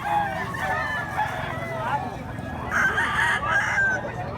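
A Gilmore Hatch gamecock stag at a farm in Mantalungon, Cebu, crows loudly and clucks up close over a busy background of farmyard noise, with faint voices mixed in.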